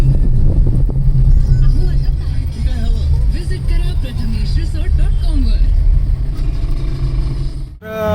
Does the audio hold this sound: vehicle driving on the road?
yes